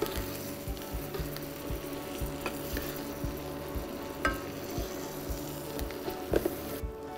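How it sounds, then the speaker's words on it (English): Fish marinated with a little garlic frying in a pan, sizzling steadily while melted butter is spooned over it, with soft regular scrapes and taps of the spoon against the pan. "I'm going to cover the fish with the same melted butter"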